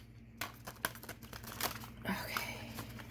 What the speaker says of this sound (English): So I'm going to shuffle now and then just go down the deck.